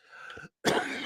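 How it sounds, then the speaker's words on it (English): A sharp human cough bursts out loud and close after a brief silence, preceded by a lighter throat-clearing rasp, with no speech over it. "There's the cough."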